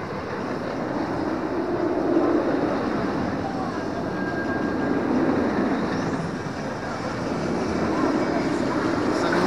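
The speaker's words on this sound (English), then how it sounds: "Empty trains going round." Empty roller coaster trains running round the track at Alton Towers theme park, a steady broad rumbling roar that swells and fades slightly, heard from a distance without a clear break.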